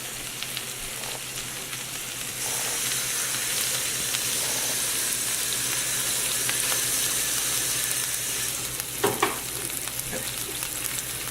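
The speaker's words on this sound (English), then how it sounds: "certain sections are already starting to simmer with the tomato sauce in there" Tomato sauce and chicken simmering in a pan, a continuous close hiss and bubbling sizzle that grows fuller after the first couple of seconds, with a few brief clatters near the end and no talking.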